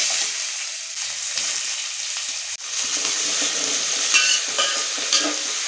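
Finely chopped onion, about 200 grams, sizzles in oil with tempering spices for kovakkai vatha kulambu, a steady close hiss with occasional stirring scrapes and one sharp knock.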